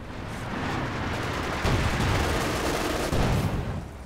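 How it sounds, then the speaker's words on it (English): Continuous dense gunfire from a strategy video game battle, likely machine gun bursts, holding steady and loud throughout with heavier surges partway through, no talk over it. "Machine gun again for Artem, wow."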